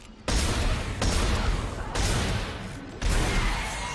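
Heavy weapon fire in the sci-fi horror shooter Dead Space 3, four loud booming blasts roughly a second apart, close and dense with rumbling tails.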